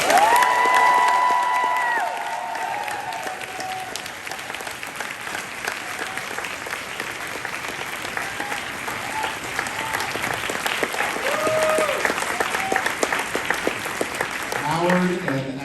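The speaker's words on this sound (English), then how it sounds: "a moment of loud appreciation for the man who should be sitting right here next to us, Howard Ashman." A crowd at a Little Shop of Horrors comic con panel in New York bursts into sustained applause and cheering, a dense wash of clapping that swells and holds, with a voice speaking briefly at the start.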